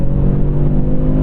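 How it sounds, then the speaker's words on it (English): A 2024 Audi RS3 sports sedan's inline-five engine holds a loud, steady, throaty drone close by, with dense low harmonics and no break through the short burst. "Engine has that character, inline-5, just such a unique noise."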